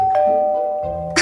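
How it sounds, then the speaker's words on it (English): A doorbell chimes at a front door on Halloween night while children go trick-or-treating, a steady ringing tone that carries clearly through the short moment with no talking over it. "ring the doorbell"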